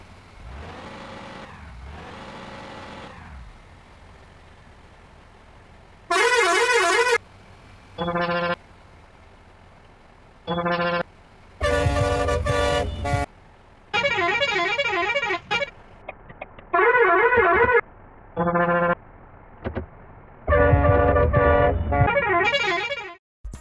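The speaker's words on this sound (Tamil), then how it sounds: "இந்த வீடியோ வந்து இந்த ஹார்ன் மோட் வந்து எப்படி இருக்குன்னு பார்த்துருப்பீங்க" A Tamil Nadu private bus horn mod in the Bus Simulator Indonesia game blares in repeated loud melodic bursts of varied, warbling tones, separated by short gaps over a low idling engine hum.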